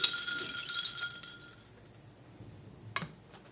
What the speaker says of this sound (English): Give that a little bit of stir.